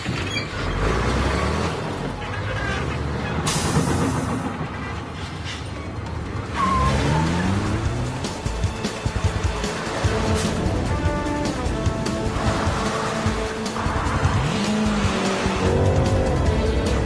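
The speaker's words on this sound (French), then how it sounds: "Prenez la voiture, suivez-les!" A car pursuing another in a chase, engines revving with repeated bursts of tire squeal and skidding throughout, loud and close, with music-like tones mixed in and no clear speech.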